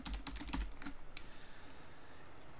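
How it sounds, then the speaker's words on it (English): Text is typed on a computer keyboard: a quick cluster of soft, close key clicks that thins out and fades toward quiet, with nobody speaking. "So I'm going to go ahead and type out some text."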